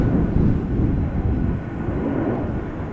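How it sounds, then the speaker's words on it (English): An MNG Airlines Airbus A330-300 P2F freighter in special livery at Amsterdam Schiphol, a loud, steady low rumble of jet engines, close and continuous with slight swells, no voices. "MNG Airlines Airbus A330-300 flight"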